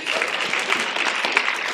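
Audience applause at a city's State of the City address, a steady wash of many hands clapping close and loud throughout, with no talk over it.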